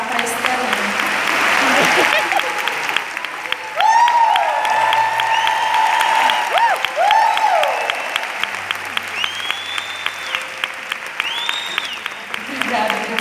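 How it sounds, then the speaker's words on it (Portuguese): An audience at a women's church conference event applauds continuously for several seconds, a steady dense wash of clapping with cheers and music-like tones over it. "vamos aplaudir de novo"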